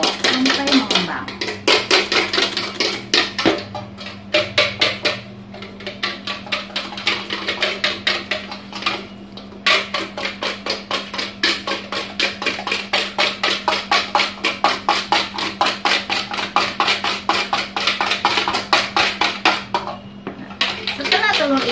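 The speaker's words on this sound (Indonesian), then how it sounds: "telur ini dikocok sampai mengembang" Eggs are whisked by hand in a bowl, with rapid, rhythmic metallic clicking and tapping that runs almost continuously at close range. Brief pauses break the beat, and a voice talks at times over it.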